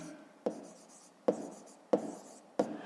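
Pen writing by hand while working a 5th-grade math problem, four distinct tapping strokes at irregular intervals, close and soft, with no talk over them.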